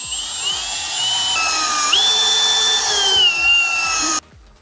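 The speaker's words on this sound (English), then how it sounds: "I like to get up to the truss wood and then stop, and then I can make sure my drill is as vertical as possible." Power drill boring holes into a wooden roof truss in a garage, a loud, continuous high whine that shifts pitch as the load changes, then cuts off abruptly near the end.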